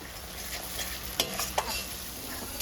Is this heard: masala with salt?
yes